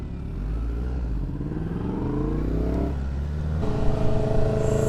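Several superbikes, including a Yamaha MT-10, rev their engines on a road in the UK: a loud, continuous engine roar whose pitch climbs, drops, then surges again without a break.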